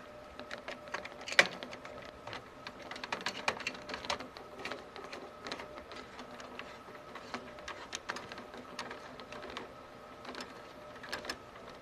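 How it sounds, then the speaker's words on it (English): Screws tightened on a computer heatsink, with a run of quiet, close clicks and ratcheting taps from the screwdriver at an uneven pace and one sharper knock near the start, no talking. "just to kind of go over my screws to make sure everything is tightened securely"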